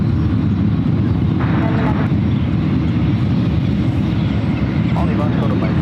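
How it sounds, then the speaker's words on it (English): Air Canada Airbus A320 arriving at San Francisco airport from Vancouver, a constant low jet engine rumble heard under a person talking. "Air Canada Flight 562 coming in from Vancouver."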